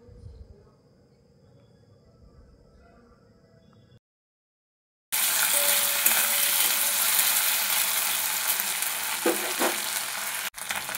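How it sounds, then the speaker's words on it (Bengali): Ginger and green chili paste sizzles loudly in hot oil with fried potatoes in a vegetarian soybean dish, a steady close frying hiss after a quieter start and a short gap, with a brief stirring clatter near the end. "আদা কাঁচা লঙ্কাটা একটু ভাজা ভাজা হয়ে গেছে"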